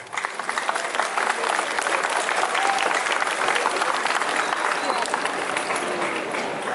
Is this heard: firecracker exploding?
no